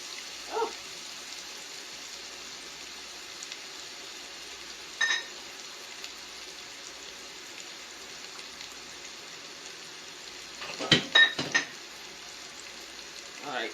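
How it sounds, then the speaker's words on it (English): Garlic and onion sizzle in a pan for clam chowder: a faint, steady hiss runs throughout, with a few brief louder clinks and stirring bursts. "something about garlic and onion hitting the pan"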